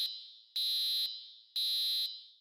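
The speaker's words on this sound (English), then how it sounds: "You know the school fire drills that we all used to have, but the alarms were like super duper duper loud" Loud school fire drill alarm, electronic beeping pulses in a regular on-off pattern, three bursts close and piercing with no voices.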